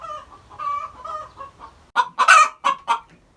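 A bantam hen nearby grumbles in low, soft clucks, then breaks into several louder, sharp squawking calls in a quick burst before falling quiet.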